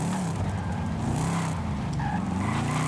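Collector car engine running steadily in Forza Horizon 5, a continuous loud drone with harmonic pitch that rises and falls slightly, with faint tire noise alongside.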